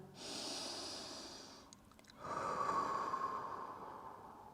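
Long, deep breaths during a yoga practice: a slow airy inhale, a short pause, then a longer exhale, close and fairly quiet.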